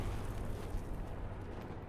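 Frag grenade explosions in the World War II shooter game Hell Let Loose, a dense, continuous low rumble of blasts and debris during a competitive match, loud and sustained with no clear gaps.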